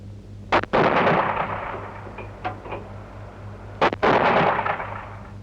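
An AMX-13 mortar carrier firing its mortar from on board: two loud, sharp blasts a few seconds apart, each followed by a long rumbling roar that slowly fades.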